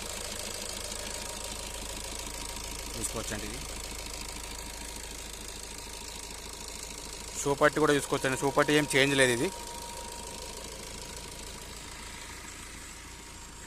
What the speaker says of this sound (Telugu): ఇంజన్ ఇట్లా ఉంది